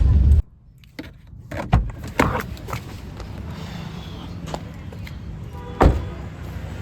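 A car eases out through a tight gap, heard from inside the cabin: a low engine hum with scattered clicks, knocks and a jangling rattle, and a sharp thump near the end.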